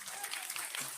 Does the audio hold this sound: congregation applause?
yes